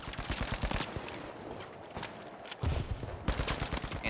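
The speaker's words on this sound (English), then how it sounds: "Somebody shooting at me." Rapid automatic gunfire in the arena shooter The Finals, close, sharp bursts of shots with a short lull midway before firing resumes.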